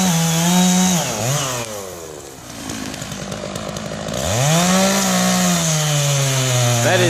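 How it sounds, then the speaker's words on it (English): A chainsaw cuts into a pine tree during a tree removal job. The engine snarls loud and close, dips to a rougher grind partway through the cut, then revs back up to a steady high whine. "some of this live chainsaw action"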